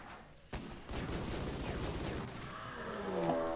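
Rapid gunfire in a video game hotel level: a dense, continuous fusillade of shots, moderately faint and steady, with a rising tonal whine near the end.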